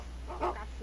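Wolf character in Roblox Wolves Life 3 giving a single short, faint bark-like yip against a quiet background.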